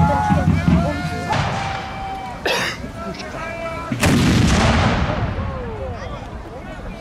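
Musket volleys and booming artillery fire at a 2017 reenactment of the Battle of Leipzig, with Saxon infantry, several heavy blasts echoing and rolling away under continuous narration.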